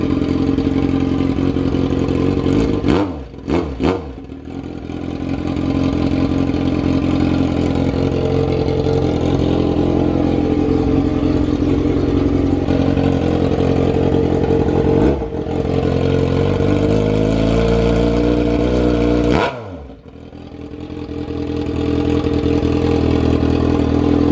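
A Yamaha FZ6R motorcycle with a timing advance mod idles close by at about 1200 RPM, a loud, steady mid-pitched engine note with a few short blips where it rises and settles back.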